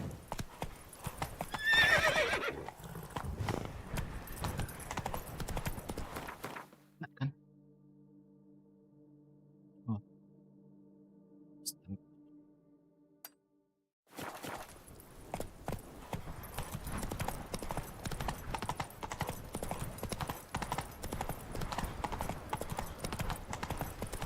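Roach, a horse in The Witcher 3, galloping with rhythmic hoof clip-clops and a whinny, loud and close, cut by a long quieter gap midway before the hooves return.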